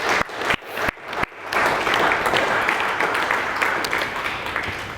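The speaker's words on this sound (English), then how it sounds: "and a round of applause for all of them." Wedding guests applaud the bridesmaids during a groom's speech. A few sharp individual claps open before the crowd joins in a sustained, lively round of clapping.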